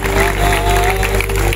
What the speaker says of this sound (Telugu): ఒకసారి చప్పట్లు కొట్టాలి అందరూ కూడా